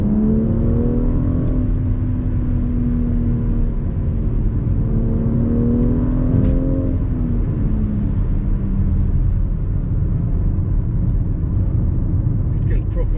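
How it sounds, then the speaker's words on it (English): A BMW X4 in Sport Plus mode on a 60 mph road, its engine rising and falling in repeated revs over a heavy rumbling drone, loud and close inside the cabin. "we're just gonna put the car on the Sport Plus mode, and then we'll do some revving."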